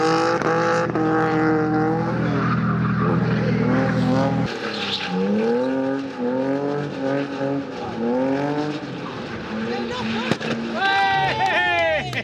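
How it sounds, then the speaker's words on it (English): A £2000 budget drift car revs and slides, its engine rising and falling in repeated swoops with tyre squeal, nearby and loud, ending in sharp high squeals; voices can be heard under the noise. "that, ladies and gentlemen, is how you pop a tyre"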